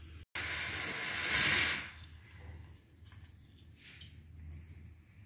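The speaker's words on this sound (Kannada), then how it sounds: "ಇವಾಗ ಒಗ್ಗರಣೆನ ಹಾಕೊಳ್ಳೋಣ" Hot oil tempering poured into tamarind huli saaru gives a loud, bright hissing sizzle that swells and then quickly dies away, leaving a faint bubbling simmer underneath.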